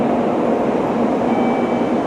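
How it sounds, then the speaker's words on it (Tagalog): A Shinkansen bullet train pulls out of a station in Osaka, a steady loud rumbling roar of the passing train with a faint high whine, continuous throughout with no talk. "Alis na yung bullet train."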